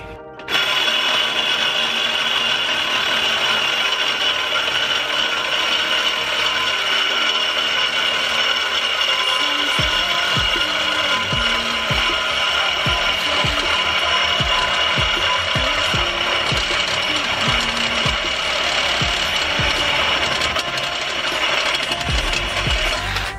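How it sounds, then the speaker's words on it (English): A powered L-shaped ratchet runs loud and close on the downpipe flange bolts of a boosted Honda CR-V during a turbo swap, giving a continuous whirring drone from the start, with rapid clicking ratchet bursts from about ten seconds on. "this L ratchet is coming in clutch."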